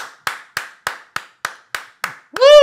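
A single person claps hands slowly and evenly, about eight sharp close claps, mimicking movie theater applause, then breaks into a loud voiced whoop at the end.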